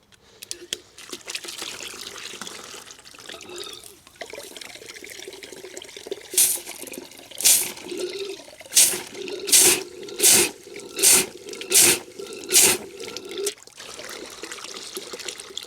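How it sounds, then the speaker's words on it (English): Water poured into a heater hose on a 2002 Mini Cooper S R53 during heater core replacement, a trickle and gurgle followed by a run of rhythmic gulping splashes, close, with some background noise. "Let's put some more water."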